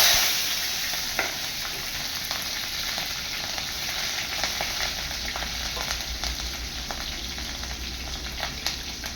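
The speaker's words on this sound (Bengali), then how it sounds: "তারপরে চেরা কাঁচা লঙ্কাটা দিব এখন।" Slit green chillies hit hot oil with black cumin while Bengali aloo posto is being cooked, giving a steady, close sizzle with scattered sharp crackles and pops throughout; no one speaks.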